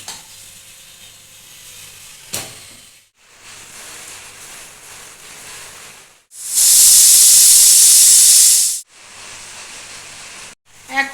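A pressure cooker holding potatoes, papaya and carrots lets off steam in one loud, sustained hiss lasting about two seconds, standing well above a quiet kitchen background.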